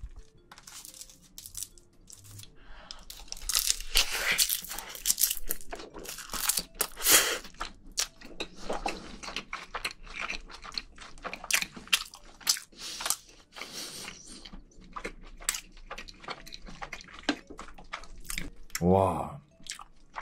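Someone eats bibimbap mixed with soy-sauce-marinated crab, with close, crisp crunches, wet chewing and squishy bites in an irregular rhythm, and a voice speaks at times between mouthfuls.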